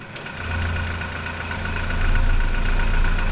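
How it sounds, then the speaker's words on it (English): A submarine diesel engine starts up and settles into a loud, steady low idle with a constant throbbing hum that builds slightly toward the end. "Start up the diesel"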